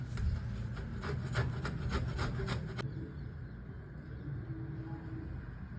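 Peeled, washed tapioca root grated by hand, a close rhythmic rasping scrape for several seconds, then fainter softer rubbing.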